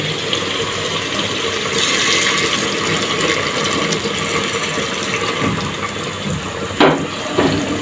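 Hot water is poured into a pot of browned, oil-glossed meat curry in a home kitchen, a continuous rushing, gurgling pour lasting several seconds, with a couple of sharp clinks near the end.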